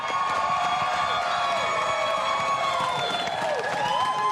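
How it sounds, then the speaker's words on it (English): Audience applause and cheering at an evening event, a continuous crowd roar with scattered whoops and voices carrying over the clapping. "A big round of applause for John Davidson."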